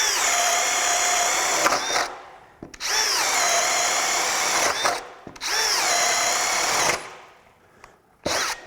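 A Craftsman brushless hammer drill boring a hole, running in three long, steady whining bursts of about two seconds each, separated by short pauses and ending with a brief final burst, loud and close.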